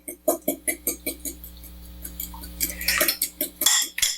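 A fork beats eggs in a bowl with quick, evenly spaced clinking strokes, close and crisp, speeding into a rapid flurry near the end.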